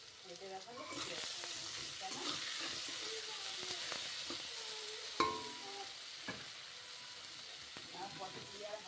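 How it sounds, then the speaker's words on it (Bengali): Turmeric frying in oil in a pan while fish curry is cooked, a steady close sizzle with stirring scrapes and a couple of sharp clinks, under faint background voices. "এবার হলুদটা দিয়ে আবার একটু ভাজতে হবে।"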